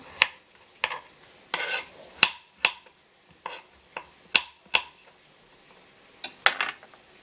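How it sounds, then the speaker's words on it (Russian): Garlic fries in olive oil in a deep pan with a soft sizzle, broken by a spaced series of sharp clicks and scrapes as it is stirred. "На сковородочку глубокую наливаем оливковое масло. У меня тут уже карбина жарится. И высыпаем чесночок"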